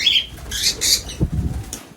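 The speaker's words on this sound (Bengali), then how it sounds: "ককটেলগুলোকে ওপেন ছেড়ে দিয়েছি যাতে ওরা উড়ে বেড়াতে পারে ওপেন কলোনির মধ্যে।" Cockatiels flying loose in an open colony, several quick bursts of wingbeats flapping close by, with faint bird chirps in the background.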